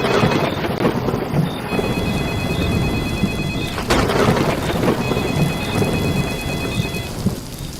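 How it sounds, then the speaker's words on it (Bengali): Low rumbling thunder rolls beneath heavy steady rain, with a sharp crack near the middle and faint ringing tones drifting over the storm. "বজ্রের গর্জন"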